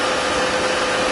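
A Harrison M400 2.2 m bed lathe running at 40 RPM, a steady, loud, even motor whir and broadband hum held constant throughout the short moment, close up with no voices.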